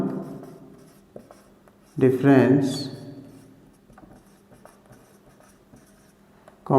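Chalk or marker writing on a board during a Hindi-language maths lecture on arithmetic progressions, heard as soft scratchy strokes near and quiet, with a teacher's voice speaking loudly in bursts over them.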